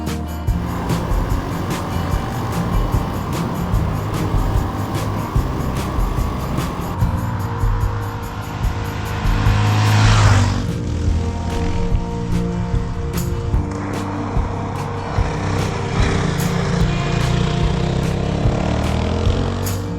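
A motorcycle on IRC mostly-street tires rides over gravel on half-frozen ground, its engine giving a steady, loud, close drone that swells briefly midway, with gravel crunch underneath throughout.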